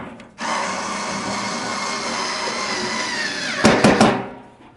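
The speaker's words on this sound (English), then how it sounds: "I'm using an automatic screwdriver, which is much easier" An automatic screwdriver whirs steadily for about three seconds while a Heat Outdoors Goliath gas patio heater is assembled, then ends in a few louder stuttering bursts as the screw seats before cutting off; no one talks.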